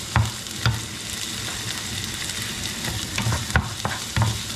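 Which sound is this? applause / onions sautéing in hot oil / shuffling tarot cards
onions sautéing in hot oil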